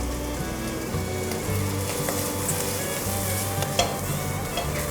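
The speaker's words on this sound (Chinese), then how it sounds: "锅内再放入一点油，把香菇和老菜脯放进来炒香。" Shiitake mushrooms and preserved radish sizzle steadily in hot oil in a wok as they are stir-fried. A continuous close frying hiss carries occasional scrapes of the spatula and no voices.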